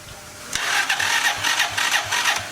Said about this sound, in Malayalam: തെല്ലൊരു ഗൗരവത്തോടെ ആശാൻ വണ്ടി സ്റ്റാർട്ടാക്കി. മോട്ടോർ ബൈക്കിന്റെ അതേ ശബ്ദം.